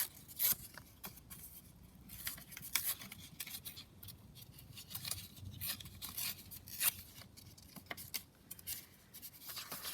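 Paper is torn by hand around a cockatoo cutout for a craft journal, giving soft, close ripping and scratchy crackles in uneven bursts, quiet and with no voices.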